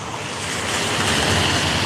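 Wind blowing outdoors, a steady, loud broadband rush that swells slightly midway and buffets the microphone, with no talking.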